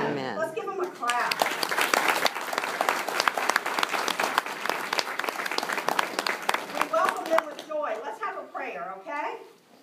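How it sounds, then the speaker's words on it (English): Applause at a church baptism for babies, a congregation clapping steadily for several seconds after a short stretch of talk, with a voice and other chatter rising as the clapping fades. "Let's give them a clap."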